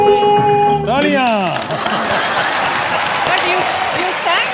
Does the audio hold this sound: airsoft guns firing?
no